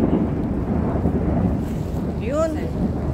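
Thunder rumbles low and continuously on a rainy day at Tsing Yi Northeast Park in Hong Kong, mixed with wind buffeting the microphone, while a voice rises briefly near the end.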